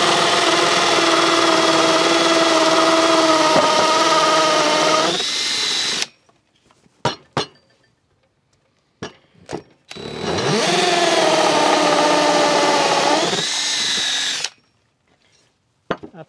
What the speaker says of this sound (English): Now you take a 3/4 inch bit, and I've already got one here in my drill. You start right there, and you go down.